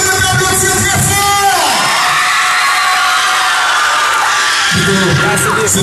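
A live Haitian concert audience for a singer cheers and shouts loudly over sustained music, a dense roar of voices that swells at the start and end.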